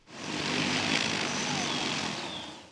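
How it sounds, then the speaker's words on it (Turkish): Propellers of the X2, a two-seat electric flying car with eight rotors and vertical takeoff, whir in a steady, loud broadband roar that swells quickly and holds during a test flight in Dubai. "Dikey iniş kalkış yapabilen X2 isimli araç, Dubai'de test uçuşu gerçekleştirdi."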